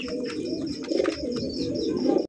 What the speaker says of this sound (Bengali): গ্রে বার কালারের মুখির কবুতর